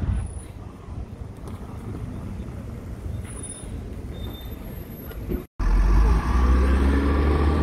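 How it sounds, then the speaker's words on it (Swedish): City bus number 22 pulls away on a Riga street, its engine and tyre noise rumbling steadily at moderate distance with wind, then a brief dropout before a louder, closer roar of traffic. "Buss 22 drog iväg där nu."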